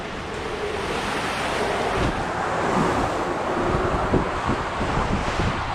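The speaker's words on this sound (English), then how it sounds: "It is crazy time outside." Strong wind buffets the microphone in a constant, loud rush, with surging gusts and low thumps throughout and no voices.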